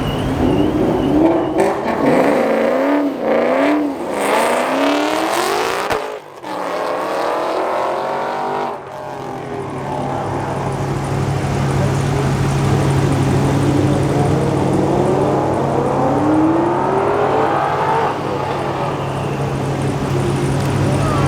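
An SN95 Mustang V8 revs hard several times toward 7,000 rpm, rising and falling in pitch, then settles into a loud sustained roar with a climbing whine, no talking.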